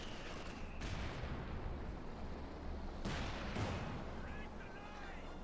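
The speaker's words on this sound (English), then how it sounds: "Got artillery called in the centre victory point." Artillery fire in Company of Heroes 2 during a Wehrmacht versus US Forces match: sustained rumbling barrage with two sharper blasts, broadband and loud throughout, with game battle noise and some talk underneath.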